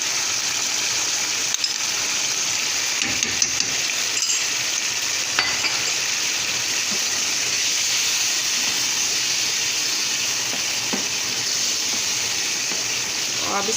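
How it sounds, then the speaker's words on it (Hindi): Chicken karahi tomato masala frying over a high flame, with a continuous loud sizzle and hiss, occasional stirring clinks, and a voice talking now and then over the cooking. "आप तेज़ चूल्हे पे भुनेंगे ताकि ये जो टमाटरों ने पानी छोड़ा सारा खुशक हो जाए।"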